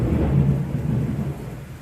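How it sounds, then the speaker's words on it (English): Thunderstorm with a deep, loud rumble of thunder rolling through, swelling early then slowly fading under a rain-like wash. "You heard the thunderstorm, right?"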